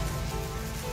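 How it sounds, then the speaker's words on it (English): Storybook rain effect: a brief, dense, steady patter of rain falling on a surface, close and even, with no voices. "It rained harder and harder."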